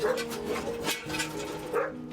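Korean Jindo dogs bark in short, sharp bursts, several yelps and barks following in quick succession, close by and fairly loud.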